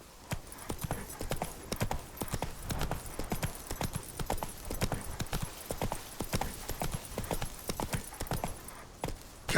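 Roach, Geralt's horse in The Witcher 3, gallops steadily, a quick, even rhythm of hoof clops fairly close and moderately quiet, with no talk over it.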